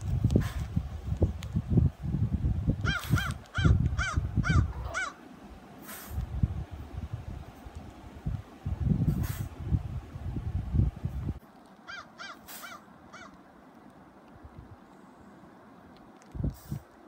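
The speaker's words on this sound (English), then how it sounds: "Nanny's crows." Several crows caw near a church in Newfoundland in short repeated bursts over a rustling, shuffling background, calls coming in clusters with pauses between, fairly close by.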